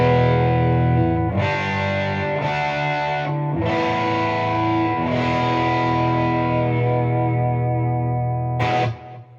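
Electric guitar played through a Carstens Warm Machine amplifier on a smoother, lower-gain, more open setting, sustained distorted chords with a chorus-like shimmer, loud and close, ending in a short final stab.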